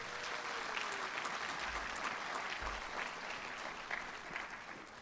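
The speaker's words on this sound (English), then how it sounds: "Big round of applause for that." Steady crowd applause fills a white coat ceremony at St. George's University School of Medicine, a continuous distant-sounding patter of many hands, fairly quiet overall.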